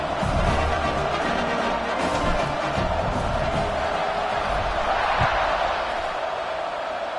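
Crowd noise fills a college football stadium after a scoring drive and kickoff, a continuous, broad roar of cheering that stays even and fairly distant throughout.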